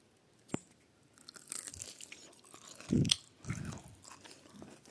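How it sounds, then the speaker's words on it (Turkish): Crunchy bites and chewing of Dubai chocolate filled with kadayif, a few loud crisp crunches close to the mouth with quieter chewing between, no talking. "Çatır çutur ediyor ağzımda."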